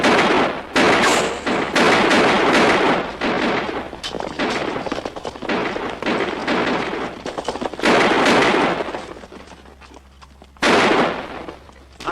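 Heavy gunfire in a western-style fort skirmish, many overlapping shots and volleys in dense bursts that break off briefly near the end and then resume, loud and close, with no talk.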